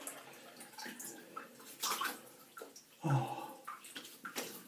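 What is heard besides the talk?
rinsing a razor under cold running water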